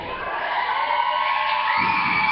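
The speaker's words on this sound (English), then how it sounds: "They're cheering for you All again, right." Wrestling fans cheer as a crowd, a dense sustained roar that stays loud and steady throughout, with a low rumble swelling near the end.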